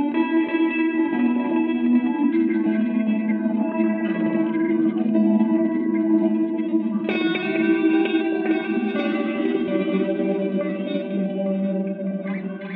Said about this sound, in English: You also get a nice kind of phasey effect with the all the different filters going at once.